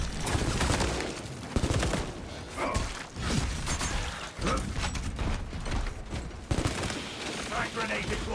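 Heavy gunfire in Space Marine 2, a loud, near-continuous barrage of shots with sharp cracks, thuds and mechanical clatter running the whole stretch.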